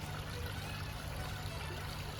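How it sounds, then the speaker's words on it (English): A garden pond waterfall trickles and splashes in a steady, faint wash of falling water, with no voices. "and that waterfall"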